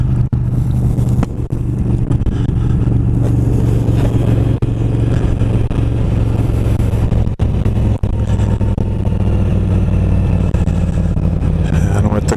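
Inside a Shoei GT Air helmet on a moving motorcycle, a constant loud roar of wind buffeting and low engine drone fills the whole stretch, with occasional sharp thumps, steady and close with no talking.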